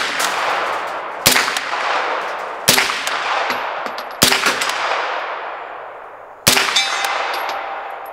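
Five loud, sharp shots from an MP5 submachine gun, fired singly at uneven intervals with a metallic ring and long echoing decay after each report.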